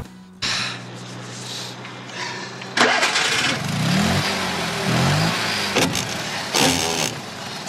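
A vintage period car's engine is cranked and catches, then runs with rising and falling revs and a rough, throaty idle, close and loud.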